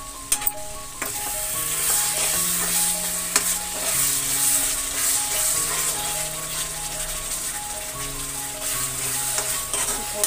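Tomatoes cook in a pan and are stirred now and then, giving a steady close sizzle with occasional scraping and clinks throughout, with a faint tonal hum underneath and no talking.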